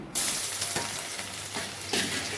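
Garlic and three dried red chillies sauté in hot oil after mustard seeds have popped, while roasted vermicelli is being cooked. A close, steady sizzle comes with a few stirring scrapes and no speech.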